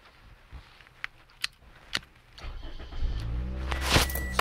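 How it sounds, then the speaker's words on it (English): A car engine cranks and catches after a few scattered clicks and taps, then settles into a loud, steady running rumble close by. "So the car starts"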